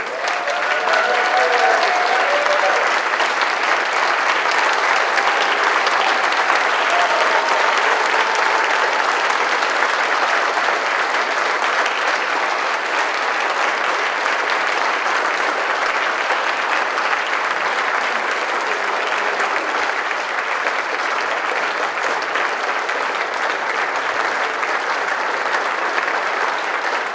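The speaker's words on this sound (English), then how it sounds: "But Mr. Miyamura, you need to stand up and take a round of applause." Sustained audience applause at a community event honoring a veteran, dense and steady clapping from a large crowd that continues at an even level throughout, with no talk over it.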